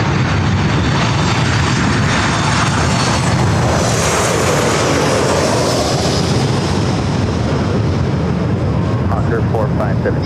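A Hawker business jet landing on runway 24 right at LAX, heard as a loud, continuous roar of jet engine noise that swells and sweeps through the whole stretch, with no talk.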